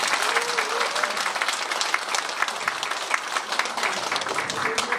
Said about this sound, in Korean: 여러분 큰 박수 한번 보내주시죠